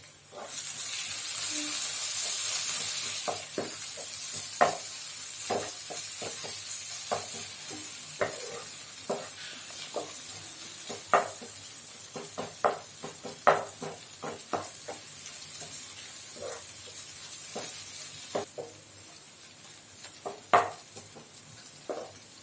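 Spoon stirring cooked tomatoes in a pan over medium flame for tomato rice, with repeated scraping clinks against the pan over a steady sizzle, close and moderately loud, continuing for the whole stretch.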